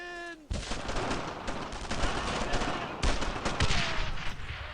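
Gunfire rattles in the World War II shooter game Brothers in Arms: Road to Hill 30, with dense bursts of rifle and machine-gun shots. A brief tone comes first, then the firing continues loudly, partly masking faint voices.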